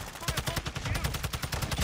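Rapid gunfire in Call of Duty: Modern Warfare III, a fast, steady stream of close shots with no break, with faint talking beneath it.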